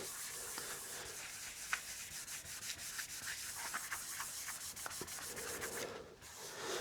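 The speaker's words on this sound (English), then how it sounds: "I've got some 600 grit. And I'm just going to start kind of rubbing this." A guitar's finished top is rubbed with 600 grit sandpaper, a soft, steady back-and-forth scratching hiss with faint strokes and a small knock, close but quiet throughout.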